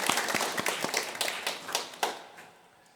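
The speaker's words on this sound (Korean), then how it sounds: "우리 할렐루야 찬양대 더욱 하나님을 찬양하는 일에 힘쓰고 그 일을 통해서 하나님의 크신 은혜가 임하도록 우리 격려의 박수 한번" A church congregation at a Sunday service gives encouraging applause for the Hallelujah praise choir, a scattered run of hand claps that is moderately quiet and thins out toward the end.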